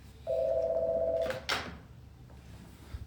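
A telephone rings once with a steady sustained tone during a live broadcast, followed by a brief clatter, with faint room noise around it.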